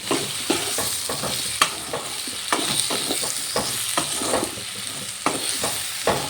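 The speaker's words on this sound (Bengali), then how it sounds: "ভাজা ভাজা করে নেব" A steady sizzle of flat beans, potatoes and tomato frying in a pan, broken by repeated scraping and clacking strokes of a utensil stirring, close and loud.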